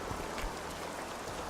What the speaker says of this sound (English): So it's pouring rain